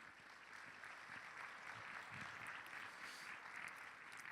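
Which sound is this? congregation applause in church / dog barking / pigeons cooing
congregation applause in church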